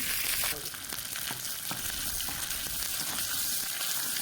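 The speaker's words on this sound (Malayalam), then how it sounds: "കടുക് പൊട്ടിയതിന് ശേഷം ചെറുതായി അരിഞ്ഞ ചെറിയ ഉള്ളിയും രണ്ട് മൂന്ന് വറ്റൽ മുളകും കുറച്ച് ഇട്ട് മൂപ്പിച്ചെടുക്കാം" Finely chopped shallots and dried red chillies frying in oil after mustard seeds have popped, for Kerala jackfruit puzhukku, a loud continuous hissing sizzle with faint crackles and spatula scrapes, close and unbroken.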